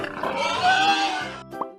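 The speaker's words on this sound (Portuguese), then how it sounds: "Esse é o porco." A pig grunts and oinks in one close, loud, drawn-out burst that ends with a short snort.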